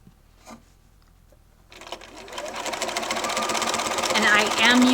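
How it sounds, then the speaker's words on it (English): A sewing machine with a walking foot sews a quarter inch seam on baby quilt binding strips and then back stitches. After a quiet start it whirs up steadily and grows louder and close, with speech in the clip. "So I do a 1/4 inch seam and then back stitch it."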